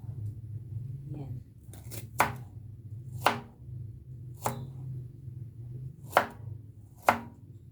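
A knife chops garlic on a board in a home kitchen, with about six sharp, evenly spaced knocks over a low steady hum; a person speaks softly at moments.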